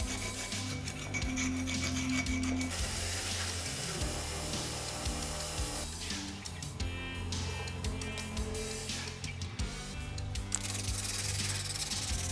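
A hand file rasps steadily across a metal Batarang, rounding the ears and beveling the sides of the head, with close, continuous rhythmic scraping strokes.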